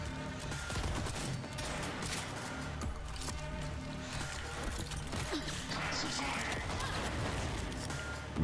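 A grenade blast and rapid gunfire in the video game Cyberpunk 2077, dense bursts of shots and impacts running throughout under loud, excited player voices talking over the action.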